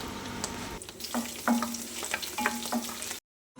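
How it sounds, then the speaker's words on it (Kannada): Garlic and ginger frying in coconut oil, a continuous close sizzle with crackling pops and a few stirring scrapes, cutting off abruptly just before the end. "ಈಗ ಒಗ್ಗರಣೆ ಇಡುವ ತೆಂಗಿನೆಣ್ಣೆ ಸ್ವಲ್ಪ ಬೆಳ್ಳುಳ್ಳಿ ಶುಂಠಿ ಆಮೇಲೆ ಒಂದು ತುಂಡು ಹಾಕಿ ಫ್ರೈ ಮಾಡುವ"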